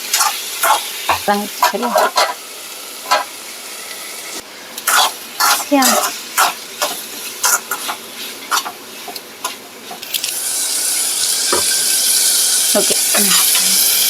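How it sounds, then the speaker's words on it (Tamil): Tomatoes and onions sautéing with curry leaves in a pan for a home breakfast dish: a spatula scrapes and stirs in short strokes, then a steady sizzle swells while people talk. "தக்காளிலாம் நல்லா தான் வதங்கிடுச்சு."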